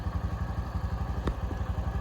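A Honda CT125 motorcycle idles close by, its small single-cylinder engine thumping in a fast, even pulse with light mechanical clatter, steady and alone without talk.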